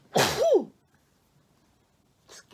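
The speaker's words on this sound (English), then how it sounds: "And I'm going to sneeze." A single loud, close sneeze with a sharp intake and burst, followed by silence and a brief soft breath or murmur near the end.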